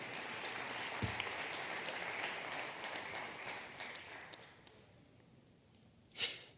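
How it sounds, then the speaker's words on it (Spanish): A church congregation applauds at a Spanish-language family sermon, steady moderate clapping that fades toward the end, followed by a brief louder burst. "Denle un aplauso al Señor si quiere hacerlo"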